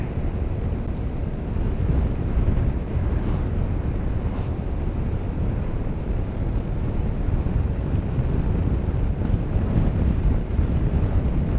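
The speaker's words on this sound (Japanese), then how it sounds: "ちょっと風がうるせえけど、風の音がうるせえけど" Steady, loud wind buffets the microphone while riding a Forza scooter along a tree-lined avenue, a dense continuous roar with no pauses.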